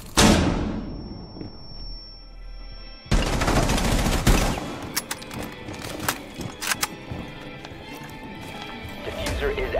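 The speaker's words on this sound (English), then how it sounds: "Using flashbang!" Flashbang grenade in the tactical shooter Rainbow Six Siege goes off with a loud burst and a high ringing tone, then gunfire, thuds and clattering game action follow in a busy, dense stretch.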